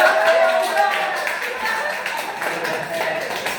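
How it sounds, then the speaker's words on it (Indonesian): A group claps loosely and unevenly while voices chatter over it, the clapping fading a little toward the end. "tepuk tangan buat aku"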